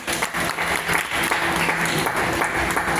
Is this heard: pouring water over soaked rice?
no